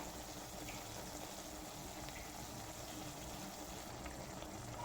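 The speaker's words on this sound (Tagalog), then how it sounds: "nilagyan ko ng konting tubig para may sabaw" Water poured into a pan of sautéed vegetables with okra, chayote, cabbage and noodles, a soft steady splash and simmer held at low level throughout, with no talking.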